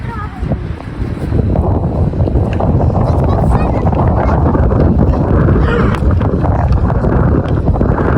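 Loud wind buffets the microphone, a continuous low rumbling roar that stays strong throughout, with faint movement noises underneath.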